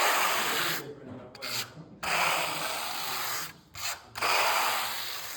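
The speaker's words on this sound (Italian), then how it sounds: "dopodiché dovete carteggiare veramente bene" A resin floor coat is sanded with long, continuous abrasive rasping strokes that drop out briefly twice before resuming, close and steady with no voices.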